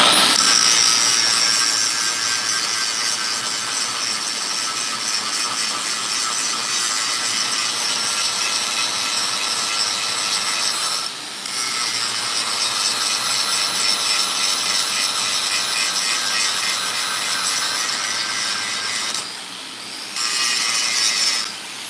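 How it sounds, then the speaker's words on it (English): Abrasive cutoff wheel grinding through a forged random-pattern Damascus steel billet, a loud continuous high-pitched whine and hiss that holds steady with two brief dips, no talking. "That's just a cutoff wheel."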